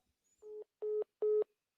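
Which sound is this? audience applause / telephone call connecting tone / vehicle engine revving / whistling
telephone call connecting tone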